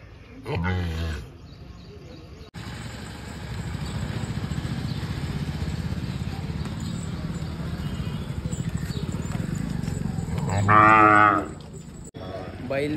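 A bull being unloaded at a cattle market lets out a loud moo at the start and another near the end, over a steady rumble of market noise and distant voices.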